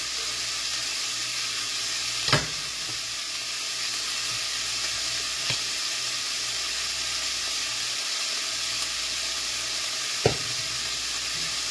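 Half a medium yellow onion frying in a pan, a steady broad sizzle running throughout with a few sharp clinks of a utensil against the pan.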